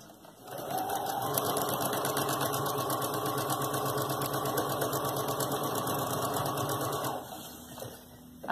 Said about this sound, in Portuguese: vou passar uma costura reta aqui na beiradinha